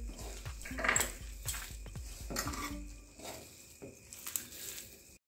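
Gram flour and colocasia leaves are mixed into a dough in a metal bowl, with repeated scraping and clinking of a spoon against the bowl in short, irregular bursts, fairly close and quiet.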